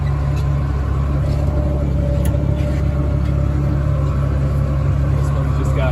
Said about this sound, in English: This tractor's got about all it can handle with the full load on it.